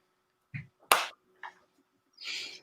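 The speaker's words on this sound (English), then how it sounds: "How many claps? 4. 4 claps." Four sharp hand claps, spaced unevenly and fairly close, ringing out alone in a quiet studio during a scholars tournament broadcast.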